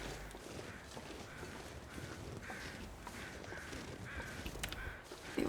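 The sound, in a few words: crows cawing in video game The Long Dark (Great Bear)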